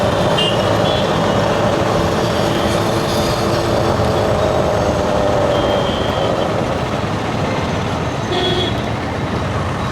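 A train rumbles past a railway station loudly and continuously, a heavy roar of wheels on rails with faint squeals now and then.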